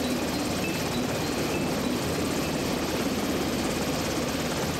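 A Mark III Seahawk helicopter flying with an Aegis cruiser battlegroup, heard as a steady, distant rotor and engine roar that stays constant throughout without a break.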